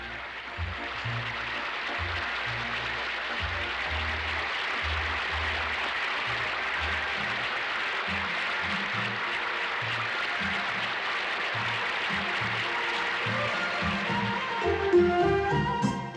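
An audience at a 1983 performance in Japan by the Pyongyang children's and students' art troupe applauds with sustained, dense clapping. The applause stays steady throughout and swells slightly near the end.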